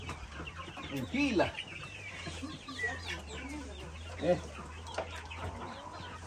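Laying hens on a farm cluck in short, irregular bursts close by, with a low steady hum beneath and a few brief spoken words mixed in.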